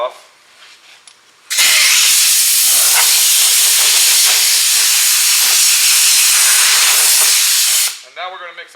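Compressed air blows hard over freshly sanded fiberglass filler on a 1933 Ford coupe body under collision repair, a loud sustained hiss lasting about six seconds between quieter moments.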